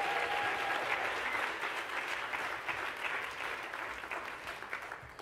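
Audience applause after a performance at an event honoring Ntozake Shange, a continuous, fairly soft crowd clapping that holds steady for several seconds with a faint voice briefly at the start.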